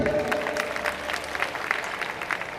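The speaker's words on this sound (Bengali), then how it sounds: "আমরা তার জন্য জোরে একটি করতালি দিই" Applause from an audience welcoming a retired professor as a guest at a college freshers' reception, a steady, dense patter of many hands clapping close by for a couple of seconds.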